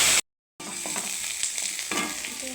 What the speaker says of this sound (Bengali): এখন তেলে ভেজে নেব।